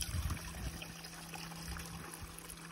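A Seaflo solar 12-volt water pump fills a 1 liter jug, giving a steady close trickle and splash of water with a low pump hum underneath, continuous for a few seconds.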